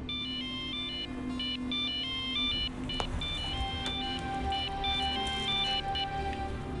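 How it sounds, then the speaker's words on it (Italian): A telephone rings with a repeating electronic ringtone, steady tonal bursts in a regular pattern, fairly loud and close, heard alone with no talk in an indoor scene. "Squilla!"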